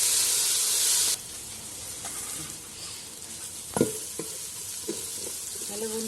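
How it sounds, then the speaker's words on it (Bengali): Ginger sizzles and fries in a pan for a meat curry, a bright hiss that drops to a softer crackle, with a few scraping stirs and utensil clinks. "আদাটাকে একটু ভেজে নেবো, এবার গন্ধ ছাড়বে"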